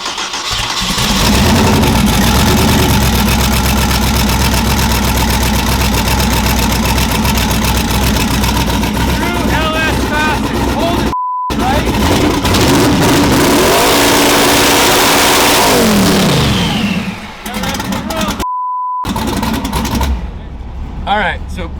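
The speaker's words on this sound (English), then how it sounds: "let's just see if this thing runs." Van engine cranking to life, then loud revving and idling up close in long sustained bursts, cut by two brief gaps and a rattling drop near the end.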